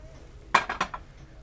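Decorative plates clink against each other while being handled, a quick cluster of three or four bright ceramic knocks, close and alone.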